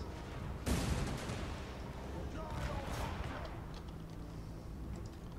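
A loud cannon-like boom bursts out early, followed by a rumbling barrage of artillery in the video game Total War: Warhammer II, with further cannon shots and a voice murmuring underneath.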